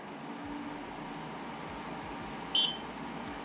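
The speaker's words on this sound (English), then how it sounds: "now we can start hearing the fan spinning around" A Xiaomi Mi Air Purifier 3 fan runs on mode 2, giving a steady, even whoosh of moving air throughout, with one short electronic beep near the end.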